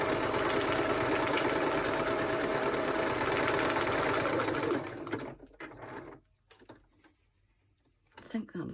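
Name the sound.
sewing machine stitching paper ephemera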